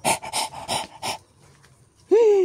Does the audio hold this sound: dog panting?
yes